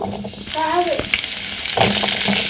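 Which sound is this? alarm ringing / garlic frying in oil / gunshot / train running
garlic frying in oil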